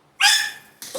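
A dog close by lets out two short, sharp barks or yelps, the first longer and louder and the second brief and clipped.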